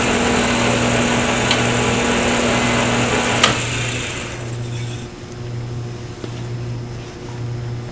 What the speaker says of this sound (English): I like to use the long point of the skew when I do this so I can see when I come near the metal bushing.